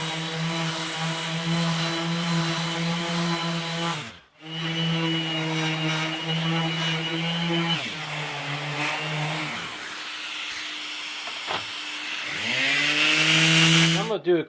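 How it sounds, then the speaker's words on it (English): A loud, droning power sander runs steadily on wood, cutting out briefly and revving back up, its pitch dropping and rising as it works. "I'm going to do a light sanding"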